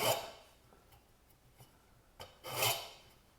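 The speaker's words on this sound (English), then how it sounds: "I'm going to go ahead and file that down" Hardened JB Weld on a part of a World War I era Coleman IL 323 lantern is filed down, with a few close rasping strokes separated by quiet pauses.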